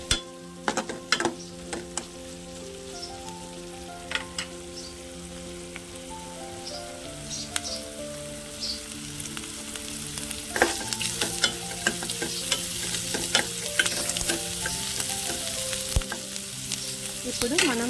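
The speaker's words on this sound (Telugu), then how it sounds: "సిమ్లో పెట్టుకొని బాగా అల్లం వెల్లుల్లి పేస్ట్ మంచిగా వేగాలండి" Ginger garlic paste fries on low heat in a pan with a continuous crackling sizzle and occasional clinking stir strokes, with steady sustained tones running underneath and no speech.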